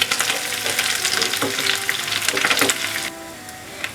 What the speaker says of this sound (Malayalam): ഏകദേശം ഒന്ന് ഫ്രൈ ആയാൽ മതി.